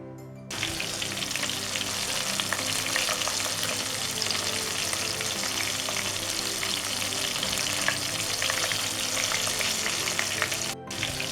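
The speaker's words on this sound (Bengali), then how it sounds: "চিংড়ি মাছগুলো ভেজে নিব।" Shrimp fry in about a cup of oil in a frying pan, giving a steady, dense sizzle that runs unbroken and fairly loud from just after the start almost to the end, with no voices.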